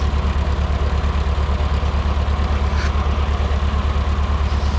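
An antique buzzsaw engine with a tube fitted to its exhaust runs at idle, loud and close, beating out a fast, perfectly regular low chug with no talking.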